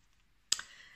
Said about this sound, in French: je vais tirer une quatrième carte